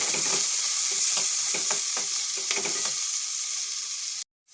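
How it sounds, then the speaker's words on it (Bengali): Green peas fry in ghee in a wok while a spatula stirs them, giving a continuous close sizzle with repeated scraping strokes before the sound cuts off abruptly near the end. "এবার কড়াইশুটিগুলো ঘিয়ের সাথে একটু নাড়াচাড়া করে নেবো"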